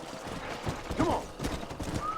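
Horses' hooves clip-clop at a steady trot in the Red Dead Redemption video game, a muffled rhythmic patter under a busy game soundscape, with a brief horse whinny partway through.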